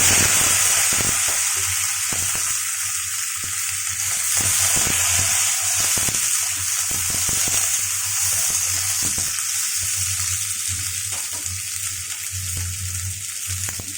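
Okra and potato frying in a home kitchen pan with bay leaf and dried chilli, a loud continuous close sizzle broken by frequent scraping stirs throughout, no talking.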